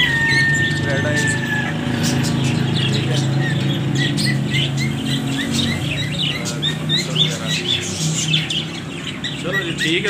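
A pair of Fischer's lovebirds squawk and chirp at close range in repeated sharp, high bursts, with a steady low hum and background murmur beneath them.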